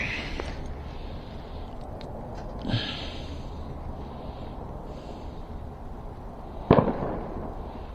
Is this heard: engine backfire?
yes